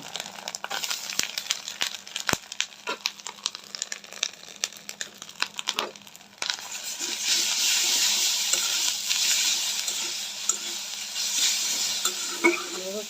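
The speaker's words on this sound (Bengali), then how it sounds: "এবার লুলুসটা দিয়ে দেব" Noodles stir-fried in a pan with a fried egg from a country hen, a scraping, crinkly stirring at first, then a steady close sizzle of frying for the rest, with no talk.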